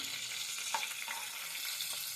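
A steady, dense sizzle of food frying in oil in a pan, heard close, with a couple of faint stirring touches and no voices.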